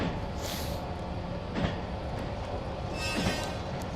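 Train running in the Running Train simulator game, a steady rumbling rail roar with clickety-clack wheel noise and a few brief hissing swells, continuous and fairly loud with no talk.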